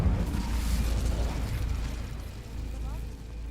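Incendio fire spell bursting in Hogwarts Legacy, a dense rumbling blast with crackling roar that holds for a few seconds and then eases slightly, loud and close.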